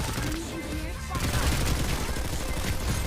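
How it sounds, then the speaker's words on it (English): Dense gunfire rattles continuously in the PlanetSide video game, a loud, steady wash of rapid shots and bursts that grows heavier after the first second. "We're probably going to run right into a bunch of gunfire as soon as I jump up here."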